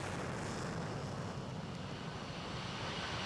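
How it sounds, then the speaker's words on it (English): A chase jet aircraft powering up and starting its takeoff roll, a steady loud broadband engine roar that holds constant throughout, heard from a distance with no voices. "He pushes the power up and begins his takeoff roll."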